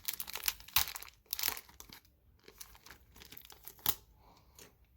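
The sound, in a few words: opening a taped-up team bag of Magic cards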